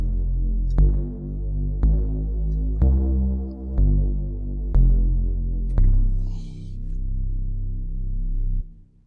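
Deep, throbbing synth bass patch built in Native Instruments Massive, playing six sustained low notes in a steady rhythm with a slight click on each attack, loud and alone with no voice.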